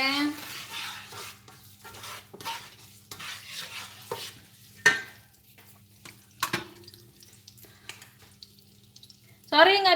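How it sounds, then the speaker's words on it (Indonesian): Food fries in a pan in a cluttered home kitchen, with soft sizzling and occasional stirring and clattering of utensils, while someone talks intermittently nearby. "Kita goreng-goreng."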